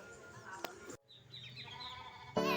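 A Javanese goat bleats a few times, fairly faint and somewhat distant, over background noise, with a sharp knock early on and a louder burst of sound at the end.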